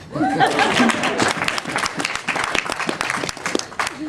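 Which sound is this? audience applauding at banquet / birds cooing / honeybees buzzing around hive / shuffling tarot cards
audience applauding at banquet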